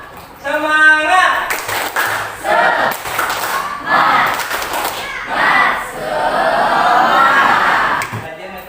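A classroom of pupils performs the 'tepuk semangat' clapping chant, with bursts of rhythmic claps and shouted group voices in a loud, lively sequence that ends in a sustained cheer.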